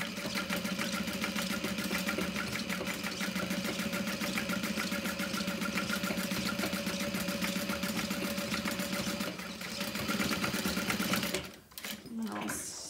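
Sewing machine stitching along the bottom of a handbag at a 4.5 stitch length runs in a steady, continuous rapid whir close up, then stops near the end with a brief clatter.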